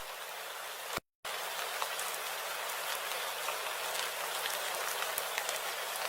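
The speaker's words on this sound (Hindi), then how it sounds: "हरी की पुकारें बारिश की आवाज में डूब जाती हैं।" Steady rain in a cartoon story scene, a dense, even hiss of drops falling continuously and fairly loud, broken once by a brief moment of silence near the start.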